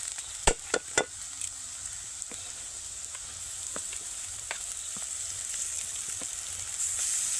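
Spatula clatters a few times, then a steady soft sizzle as deboned fish spiced with turmeric and garam masala is stirred in a kadai over low heat, with no talking.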